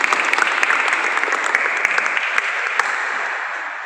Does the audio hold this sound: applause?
yes